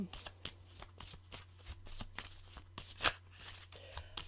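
Tarot cards shuffled by hand before a reading, a close, quiet run of repeated riffling and flicking strokes over a low steady hum.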